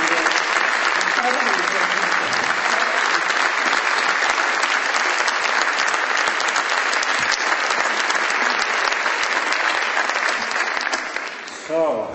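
Sustained, steady audience applause at a science round table honoring young Egyptian engineers, dense and loud clapping filling the room throughout before tapering slightly at the end.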